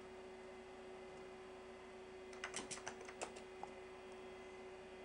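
A quiet burst of keystrokes on an Amiga 2000 computer keyboard, about seven quick clicks over a second, then a single stray tap, set against a steady electrical hum.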